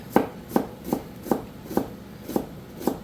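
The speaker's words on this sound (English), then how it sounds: "And this allows me to keep my onion together and to be able to cut it up very fine." A knife chops an onion finely on a cutting board, the root end left uncut to hold it together: seven evenly spaced, crisp strikes at a steady rhythm, close and alone.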